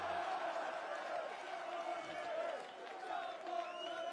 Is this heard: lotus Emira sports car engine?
no